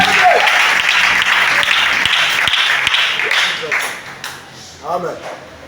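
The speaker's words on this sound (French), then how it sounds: "Acclame bien" A church congregation breaks into loud applause and cheering that carries strongly for several seconds and then tapers off, with voices rising through the clapping toward the end.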